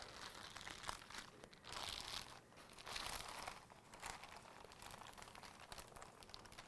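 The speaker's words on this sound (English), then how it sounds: "now let's take off the pan, and we can gently peel off the paper" Parchment paper peeled slowly off a freshly baked roulade sponge cake, giving soft continuous crinkling and papery rustles with a few louder crackly swells, close up with no talk.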